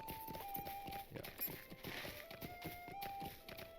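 Horse hooves clip-clop in the Lord of the Rings Online video game in a steady walking rhythm of soft, even thuds, heard alongside faint background game music.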